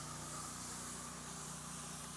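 A pressure washer rinsing a concrete driveway, a steady loud hissing spray with an underlying motor hum, continuous and close with no talking.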